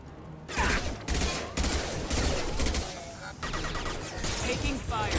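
Mass Effect 2 combat gunfire comes in dense, continuous bursts of rapid shots with brief breaks between volleys, loud and close, with a voice talking over parts of it.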